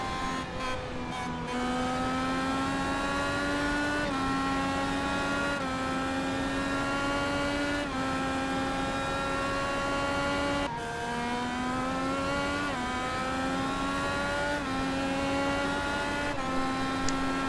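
Race cars lap Watkins Glen in the iRacing sim, their engines whining loud and close, pitch rising repeatedly through upshifts with short breaks between gears, more than one car overlapping.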